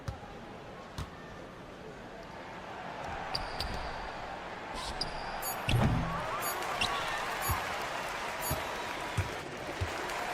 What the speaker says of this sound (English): So the home crowd happy here as they get the victory.